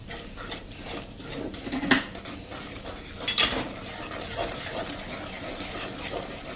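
A spoon stirs gram flour into milk sukhdi in a pan, giving soft scraping and a few sharp metallic clinks against the pan over a faint background hiss.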